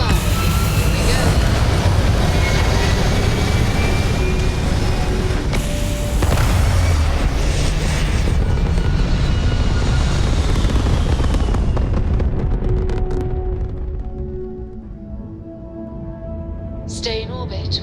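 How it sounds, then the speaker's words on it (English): Spaceship engines fire in the video game Starfield, a loud, dense roar with booming rumble that holds steady for most of the stretch, then thins out and fades near the end. "Engines firing. Here we go."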